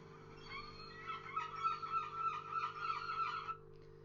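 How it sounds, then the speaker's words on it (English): A very loud seagull calls in a rapid series of harsh, repeated cries, close and alone, with a steady low hum underneath. "there's a very loud seagull on the second clip"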